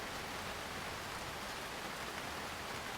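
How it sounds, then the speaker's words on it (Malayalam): Steady, even rain falls without a break, a soft continuous hiss of drops on surfaces with no voices over it. "ഫോട്ടോ എടുക്കാനാണ് ഇപ്പൊ പറ്റത്തില്ല, മഴയാണ് മഴ."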